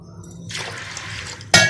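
Three glasses of water pour steadily into a cooking pot of dal and rice for about a second, followed by a sharp metallic clink.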